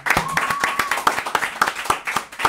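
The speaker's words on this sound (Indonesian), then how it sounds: "tepuk tangan dulu semuanya" A small audience claps for Bambang, a contest leader, at a casual Indonesian online gathering. Sparse, steady handclaps sound close and fairly loud over about two and a half seconds, with a faint tone lingering behind them.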